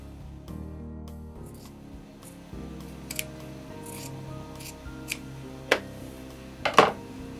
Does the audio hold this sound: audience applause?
no